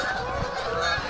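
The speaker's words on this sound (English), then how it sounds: "Only geese today." Geese honk at a lake in a country park, a loud, continuous chorus of overlapping calls close at hand.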